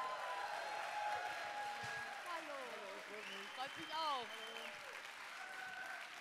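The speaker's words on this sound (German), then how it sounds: "Bitte begrüßen Sie mit mir mit einem großen Applaus Martin Grubinger." An audience at a festival event applauds to welcome percussionist Martin Grubinger, a quiet, distant wash of clapping with whistles and voices rising through it.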